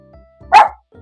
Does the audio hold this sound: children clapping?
no